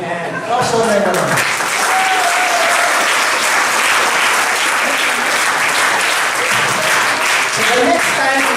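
Audience at a company gathering of the DXN family applauding themselves, sustained loud dense clapping with scattered cheers and a brief voice at the start.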